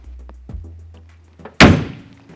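A 1951 Porsche's door shuts with one loud, solid thud, close by, ringing briefly before it fades. Softer knocks and handling sounds come first.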